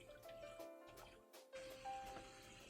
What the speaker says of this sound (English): Let me wash my hands a sec